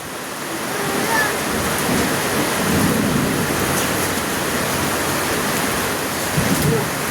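Steady rain pours down outdoors in a dense hiss, with faint low rumbles of thunder rolling in the background throughout.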